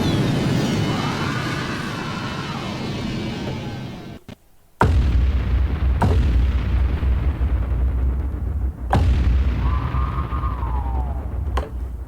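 Booming cinematic impacts hit one after another, each a deep explosive thud with a long rumbling tail and rising swoosh-like tones between hits.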